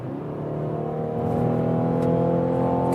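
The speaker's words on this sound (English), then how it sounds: "You can hear the engine." A Mazda SUV's engine revs up steadily under acceleration, its droning pitch climbing and growing louder, heard from inside the vehicle with no talking.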